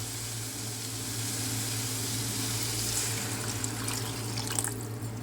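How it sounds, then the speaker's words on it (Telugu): Water added to a hot pan of cooking brinjal, tomato and prawn curry, a steady rushing hiss and sizzle with faint drips, close and even for about five seconds. "ఇప్పుడు వాటర్ వేసుకుందాం."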